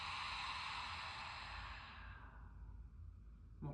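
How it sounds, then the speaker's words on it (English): A long, breathy exhale flows through an open mouth in Ujjayi breathing practice, loud and steady at first, then fading into quiet, close and alone. "So inhale through your nose. And then open the mouth, exhale."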